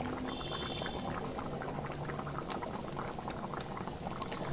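A pot of taro and prawn curry simmers at a steady boil, bubbling and popping in a constant dense burble, heard close and alone without speech.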